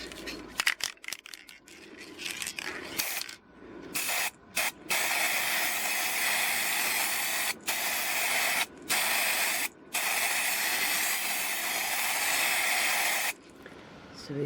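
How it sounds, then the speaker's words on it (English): A can of black matte spray paint hisses in long continuous bursts, close and loud, with brief pauses between sprays. "everything is ready just to spray paint"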